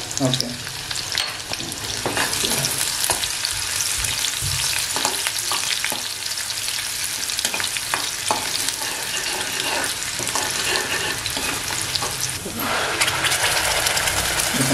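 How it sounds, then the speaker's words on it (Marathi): Chopped onion frying in hot tempering oil for a Bangda mackerel fish curry gives a loud, continuous close-up sizzle that fills the whole stretch, with brief stirring scrapes. "तर आता आहे ना ह्याच्यात मी कांदा टाकते"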